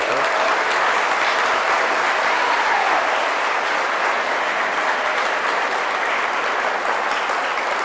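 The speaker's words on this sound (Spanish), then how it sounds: "denle un aplauso al Señor" An audience at a religious talk gives sustained applause, a dense, even wash of many hands clapping that carries on for several seconds without letup.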